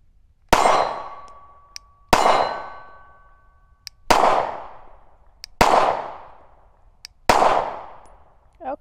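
A Glock 17C pistol fires five single shots at an even pace about a second and a half apart, each a loud, sharp crack with a ringing metallic tail that fades before the next.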